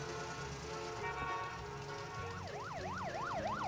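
A cartoon police car siren wails in a rising and falling two-tone pattern, starting partway through and repeating steadily over busy street background.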